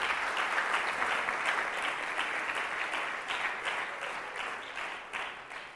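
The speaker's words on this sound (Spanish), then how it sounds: "Denle un aplauso a Dios." A church congregation applauds in a dense, continuous wash of many hands that holds strong and then slowly fades toward the end, with no voices over it.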